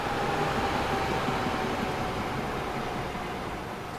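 Trains running on a track layout in the Transport Fever railway building game, a steady rumbling rail noise with a faint tonal whine, continuous and fairly loud throughout with no voices.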